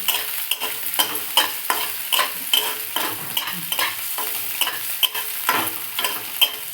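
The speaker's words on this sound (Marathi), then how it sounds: "कढईत घालून आता हलवूया" Potatoes frying in a wok are stirred with a utensil, making a rhythmic series of scraping clicks over a constant close sizzle.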